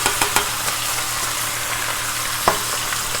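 Chopped green onion sizzles loudly alongside steak in a hot cast iron pan, a steady close frying hiss broken by a few sharp clicks and taps of stirring.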